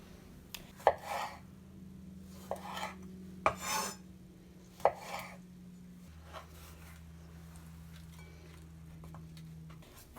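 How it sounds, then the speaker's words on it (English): A knife chops tomatoes into bite-sized pieces on a cutting board, a few separate close thuds spread out over steady low background hum. "Then chop your tomatoes into bite-sized pieces and add them into the bowl."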